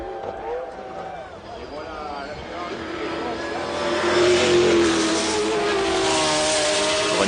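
A Ferrari 333 SP and McLaren race cars at the 1995 24 Hours of Le Mans, engines droning and rising in pitch as they accelerate, growing louder midway, under continuous commentary.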